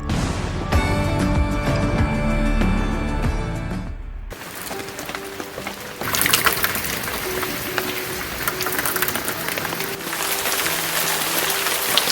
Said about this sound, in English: After that lovely rain